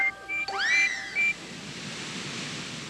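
Train whistles in a Thomas the Tank Engine story sound as two short, shrill tooting blasts that rise and hold, followed by a soft hissing wash fading out.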